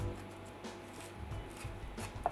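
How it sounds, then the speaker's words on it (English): Knife chopping parsley on a board for chimichurri sauce, faint soft taps and rubbing scrapes in a quiet, irregular rhythm, close by with no talking. "All right, so we're chopping this up."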